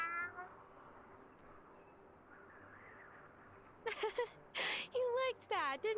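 A cat in the Wylde Flowers video game lets out several clear, close meows in quick succession after a quiet stretch.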